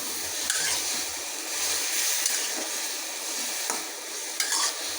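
Cauliflower and vegetables for a snakehead fish curry being stirred in a pan under a small clay lid, a steady broad frying sizzle with several louder scraping stirs cutting through it, close and alone without talk.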